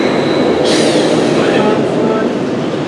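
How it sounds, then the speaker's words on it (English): The Tempesto launched roller coaster train at Busch Gardens Williamsburg races through the station at full speed, a loud, close, sustained roar of wheels on track with a rushing whoosh as it passes. "When you see this train leave here at nearly full speed, it's going to go full speed through the station."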